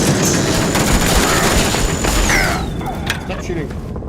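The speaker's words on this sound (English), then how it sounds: "Space laser." Laser weapons fire in rapid, dense bursts during a space shootout in the video game Starfield, loud and continuous, with a high electronic tone sweeping downward near the end.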